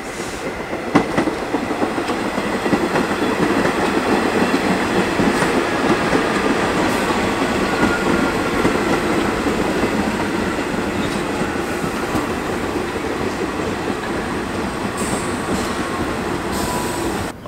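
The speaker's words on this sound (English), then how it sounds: "The train's coming, so I'm gonna go enter." A subway train in New York City rolls into a station with a loud, continuous rumble and clattering wheels. Faint squeals sound near the end as it slows, and no one speaks.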